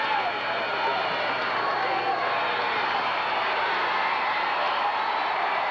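A 1981 Memphis wrestling crowd roars steadily throughout, a dense, sustained wash of cheering voices filling the arena without letup.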